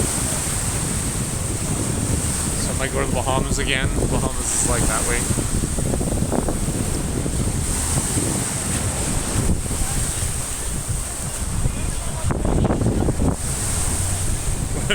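Ocean waves break and wash at the shore in a continuous loud roar, with heavy wind buffeting the microphone and people chatting casually over the surf.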